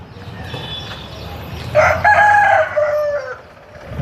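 A Nemali rooster crows loudly and close by, one drawn-out call rising over faint background clucking and farmyard noise.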